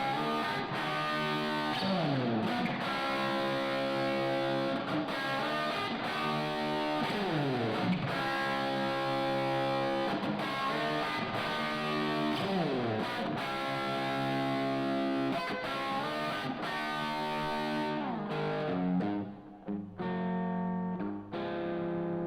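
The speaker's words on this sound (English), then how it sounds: "That's not bad on the reverb." Music played back through an effects unit with reverb and a distorted, chorus-like wash, repeating sweeping phrases for about twenty seconds before cutting off abruptly, with no voices.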